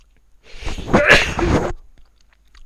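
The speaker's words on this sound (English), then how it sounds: "I've got a sneeze coming up" A single sneeze, close and fairly loud, with a brief build-up breath before the burst, then quiet.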